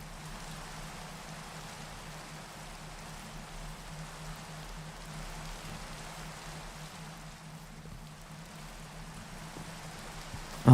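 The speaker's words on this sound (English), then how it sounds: "Oh no, it's raining." Steady rain falls in the Minecraft 1.19 world, an even hiss that holds at one level throughout with no voices, ending in a brief louder bump.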